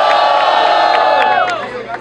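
A loud crowd at a Brazilian rap battle, the Batalha do N9V freestyle event, roars and cheers with sustained shouting and whistles. The noise stays dense and close throughout, easing slightly toward the end.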